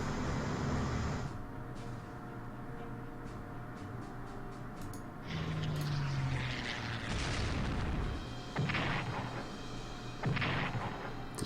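Naval bombardment in Strategic Command rumbles as heavy booming gunfire, with several loud blasts and a low, continuous roar of battle between them.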